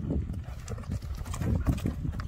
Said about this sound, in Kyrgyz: Тугандар, тор ат келатат.